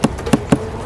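Honey bees at a beehive during a fall inspection, producing a loud, close buzzing drone with a few rapid pulsing swells, with no talking.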